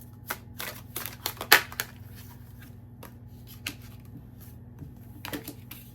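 Tarot cards are drawn and handled at a reading, with quick, close papery snaps and flicks in irregular bursts, a sharper slap near the middle, and a faint steady hum underneath.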